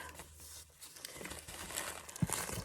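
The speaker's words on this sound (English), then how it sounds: "So let me unwrap her a bit." Packaging being peeled off a Coach Badge Field Tote 22 leather bag, close rustling and crinkling paper or plastic with a few sharper crackles and a brief tearing burst near the end, no voices.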